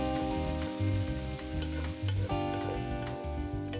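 Garlic sizzles steadily in a hot pan alongside onion and bacon, a continuous close frying crackle with some stirring scrapes and no voices.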